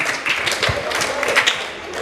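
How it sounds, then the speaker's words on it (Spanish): A crowd applauds someone narrator at a school homage event for writer Francisco Izquierdo Ríos, with steady, dense clapping that holds evenly for about two seconds. "Fuertes aplausos porque nos va a narrar el Bagrecito"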